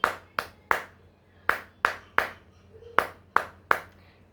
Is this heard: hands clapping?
yes